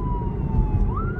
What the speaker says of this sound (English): So we have an ambulance coming by.